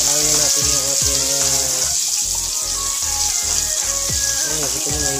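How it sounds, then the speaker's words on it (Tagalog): Boiled chicken being sautéed in a pan where ham was cooked, for a carbonara and pesto dish: steady loud sizzling with watery hiss and intermittent clattering knocks of stirring, close and continuous throughout. "Gigisa na natin."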